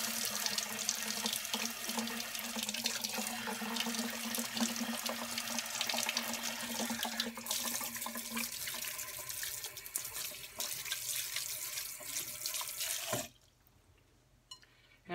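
Tap water runs steadily into a sink to rinse freshly churned butter on a farm, a continuous rushing splash that cuts off abruptly near the end, leaving only faint quiet.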